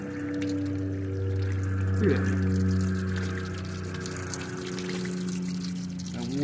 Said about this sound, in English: You run that water over them babies